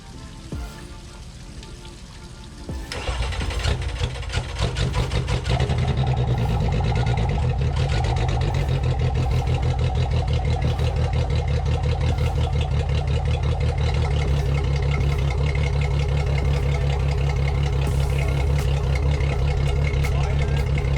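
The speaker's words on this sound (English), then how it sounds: "the engine is going to start and run." A boat's engine, recovered after the boat sank, starts after a few quiet seconds and then runs loudly and steadily with a constant rough mechanical drone.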